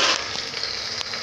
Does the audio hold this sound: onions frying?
yes